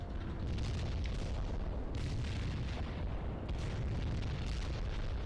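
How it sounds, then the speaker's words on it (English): Mortar fire in a modern military video game, with a dense, continuous roar of overlapping explosions and rumbling blasts, loud and close throughout. "Zulu Niner firing mortars."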